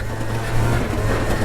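A modded two-stroke Honda Elite 50 scooter with a 70cc kit is ridden on a single-track trail, its engine a close, buzzing drone that swells slightly as it pulls.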